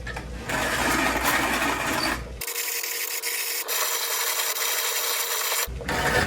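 A manual coffee grinder crushes beans in a cabin, a continuous close rasping grind that changes texture midway, then resumes its coarser scrape at the end, with no speech.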